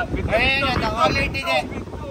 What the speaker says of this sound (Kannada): ಇಲ್ಲಿ ಗಾಳಿ ಬರ್ತಾ